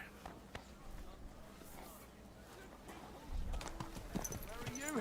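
In the video game Kingdom Come: Deliverance, horse hooves clip-clop at a quick pace under steady background noise, with a brief whinny near the end.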